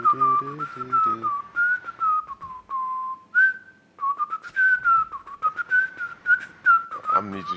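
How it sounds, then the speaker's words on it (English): A person whistles a lively, wavering tune in a casual podcast setting, close and clear, with short runs of notes and one brief held pitch, plus faint low murmuring at the start and end. "I'm gonna need you to step your whistle game up"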